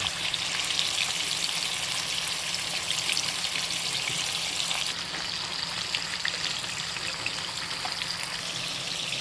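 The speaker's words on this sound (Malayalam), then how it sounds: "എണ്ണ ഏകദേശം ചൂടായി വന്നിട്ടുണ്ട് അതിലേക്ക് നമ്മൾ മീൻ വറുക്കാനായിട്ട് തുടങ്ങും" Karimeen pearl spot fish frying in hot oil, a dense, steady sizzle and crackle running unbroken at close range with no voices.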